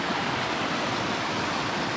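Emerald Creek in the Atherton Tablelands rushes and burbles nearby, a steady broadband wash of flowing water heard up close with no voices.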